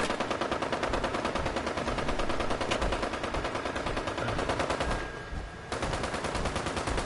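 Enemies shooting in the video game Fallout 76, a continuous rapid automatic-fire rattle that keeps going for seconds with one brief lull, steady and fairly loud.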